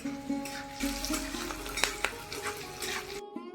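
Spices and fried onions for a chicken curry sizzle in a pan while a spoon stirs and scrapes through them, with steady frying noise and a few sharper clinks before the sound cuts off near the end.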